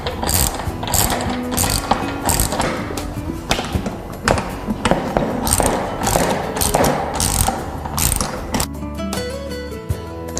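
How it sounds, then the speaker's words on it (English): Ratchet tightening a screw on a Tilt-Away wall bed during installation: a busy run of rapid clicking ratchet strokes with taps and knocks, fairly loud and close, ending in a quieter stretch. "You're going to want to tighten with the ratchet."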